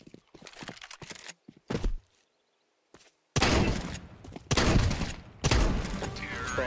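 Bursts of rapid gunfire in Counter-Strike 2 crackle in several loud volleys separated by short quiet gaps.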